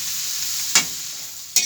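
Soy sauce sizzles in a hot pan with a steady hiss, while two sharp clatters of stirring break through near the middle and again at the end; no one speaks.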